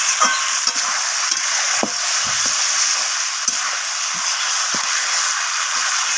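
Chicken with potatoes and spices frying and being stirred in a pan with a splash of water, a loud continuous hiss and sizzle with intermittent scraping and knocking strokes, close up and without talk.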